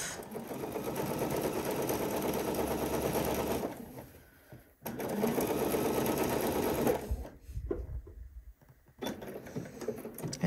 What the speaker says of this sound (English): I want to sew up the rest of this hole